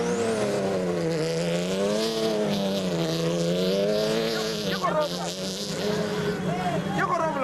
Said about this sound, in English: Next up were Terence Marsh and Peter Groenewald in the Regent Racing Nissan Navara